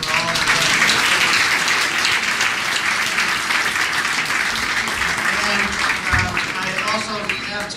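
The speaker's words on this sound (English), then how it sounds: "So give yourself a round of applause for all of you." A room full of supporters applauding at an election victory party, dense loud clapping throughout with some voices mixed in.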